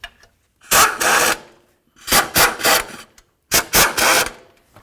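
Bolts on a belt tensioner of a 2007-2017 Ford Expedition being snugged with a ratchet: three bursts of quick, close mechanical clicking separated by short pauses, with no voices.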